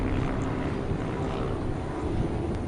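Honda Hornet 2.0 motorcycles racing on a track in a one-make championship, heard as a steady, dense engine roar that holds constant throughout with no break.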